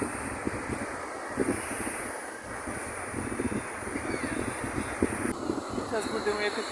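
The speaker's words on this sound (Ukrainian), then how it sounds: "Гляньте, вітер піднявся і які волни зараз." Strong wind and Baltic Sea waves at a pier, a steady roar of wind buffeting the microphone over continuous surf wash, with people talking faintly beneath it.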